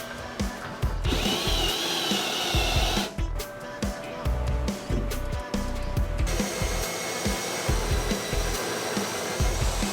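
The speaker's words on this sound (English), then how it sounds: "We were able to get the hole all drilled through the top plate up there" A power drill bores a hole through the wooden top plate of a wall frame, whining loudly in uneven bursts that stop and restart as the bit grinds through the wood, with pitch shifting under the changing load.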